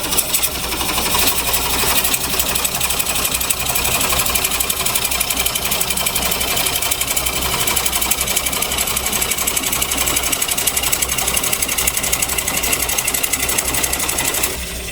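A lathe spins a huge walnut blank while a coring cutter bites into it, giving a loud, steady, dense whir and grinding hum that runs unbroken from start to finish with no talk.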